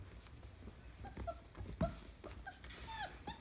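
Young pups in a week-four litter whimper and yip in short, high, bending cries, several overlapping across a few seconds against faint background rustle; no talking.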